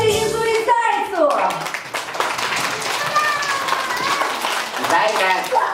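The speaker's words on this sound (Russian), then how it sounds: "Аплодисменты Язу и Зайцу!" An audience of children claps at a puppet theatre show, a dense patter of applause that keeps going for several seconds. An adult voice speaks at the start, and faint children's voices mix in under the clapping.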